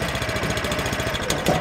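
A Swardman reel mower runs over grass with a steady rhythmic engine drone and pulsing mechanical chatter, loud and close.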